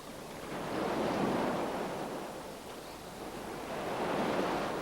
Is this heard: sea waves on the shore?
yes